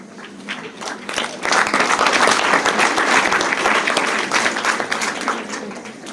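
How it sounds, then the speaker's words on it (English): Schoolgirls at a secondary school careers day break into thunderous clapping, which swells after a softer start into a loud, dense, sustained wave of applause that carries on to the end. "that thunderous clap is a sign of appreciating you and saying thank you for coming once again"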